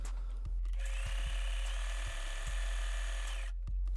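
A Facilita Pro 4432 sewing machine runs a stitch, a close, steady mechanical whir lasting about three seconds, framed by a few soft clicks before and after.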